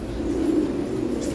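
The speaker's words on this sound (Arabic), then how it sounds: "حمامات حلوين والله." Pet pigeons in a loft cooing in a steady low murmur, close by, with a faint rustle in the background.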